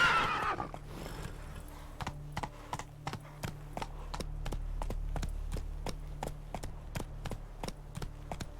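Roach the horse galloping in The Witcher 3 game, a brisk, evenly spaced run of hoofbeats thudding steadily over several seconds after a brief opening snort and whinny, with faint ambient game sound underneath.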